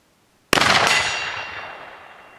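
A single cap and ball revolver shot striking a metal target: one sharp loud crack followed by a ringing metallic clang that slowly fades.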